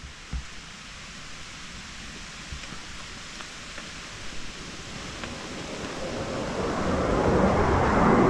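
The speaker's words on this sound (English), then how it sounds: "Windy, windy." Steady wind blowing across an abandoned Cornish estate in a VR game, a broad airy rush that swells louder toward the end with a few faint knocks.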